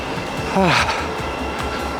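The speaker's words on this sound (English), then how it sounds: "the train is pulling in to platform 3" A passenger train rolls into platform 3 at a station, a moderately loud rumble with a short squealing brake whine near the middle and rhythmic clunks of wheels over the track.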